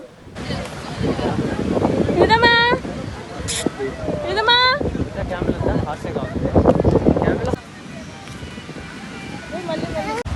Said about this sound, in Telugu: లోపలికి రాగానే పెద్ద విండ్, ఏదో తుఫాన్ వస్తున్నట్టు.